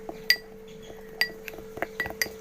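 A spoon clinks against a glass bowl while gram flour and glycerin paste are mixed, giving a few sharp, bright taps at irregular intervals with quieter scraping between them, close and alone over a faint steady hum.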